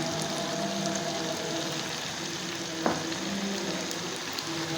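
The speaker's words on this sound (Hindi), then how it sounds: "आलू मेरे अच्छे से भुन गए हैं" Potatoes frying in a pan make a dense, even sizzle that fills the whole stretch, with a single light clink near the middle and no speech.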